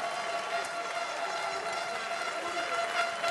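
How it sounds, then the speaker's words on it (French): An audience at the World Pastry Cup 2013 applauding the international pastry teams, a dense, steady wash of clapping from a large crowd that carries on without a break. "J'aimerais qu'on les applaudisse très fort, les 19 équipes internationales."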